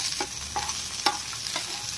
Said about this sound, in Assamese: এয়া মই লচুনকেইটা, শুকান জলকীয়াকেইটা ভালদৰে ৰঙা হোৱাকৈ ভাজি লৈছোঁ